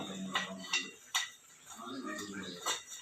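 Several sharp metallic clanks of a lid and pots being handled, spaced irregularly, close by, with soft background noise between them.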